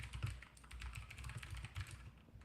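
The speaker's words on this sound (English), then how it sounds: "you are typing up a storm over there. Oh, you can hear it." Rapid typing on a computer keyboard, quiet and fairly close, with irregular clusters of clicky keystrokes and a few heavier taps running throughout.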